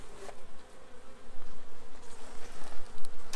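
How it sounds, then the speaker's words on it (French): Honeybees in a weak hive being opened for inspection hum in a steady, close buzz that swells and fades slightly, with no voices over it. "Il y a déjà un petit peu plus d'abeilles que la dernière fois."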